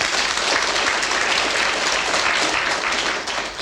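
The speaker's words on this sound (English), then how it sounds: "Clap if you think so." A BBC radio panel-game studio audience claps steadily and densely for several seconds, a broad sustained wash of hand claps that thins slightly near the end.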